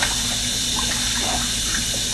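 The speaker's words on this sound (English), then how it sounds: "the water's flowing out on the other side" Tap water runs steadily through the cavity of a partly frozen turkey in a sink, a continuous close hiss and splash with no talking.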